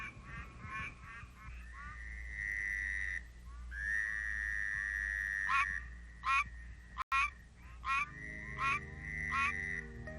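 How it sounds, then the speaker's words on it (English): Pine Barrens tree frogs give mating calls at night in New Jersey, a chorus of nasal, repeated quonk-like notes, some in quick series and others drawn out, loud and close over a low background drone. "the mating calls of adults made finding the tree frogs possible"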